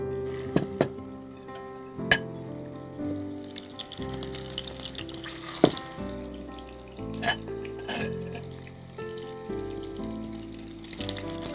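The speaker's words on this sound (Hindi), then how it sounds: "तेल भी गरम हो गया। अब इसे हमें फ्राई करना है।" Fish frying in hot oil for spicy fish chaat, a close crackling sizzle with scattered pops and light clinks of utensils throughout, no one speaking.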